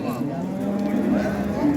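A pregnant cow moos in a long, steady, low call that fills the clip at a busy cattle market, close and loud.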